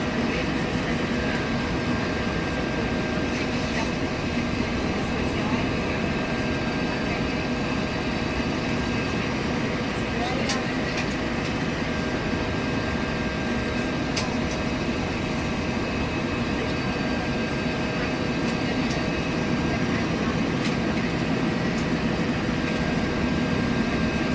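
Bell 412 helicopter engine spooling up in the X-Plane 11 simulator, a steady, loud, dense turbine whine and rotor roar with faint high tonal lines, no talk over it.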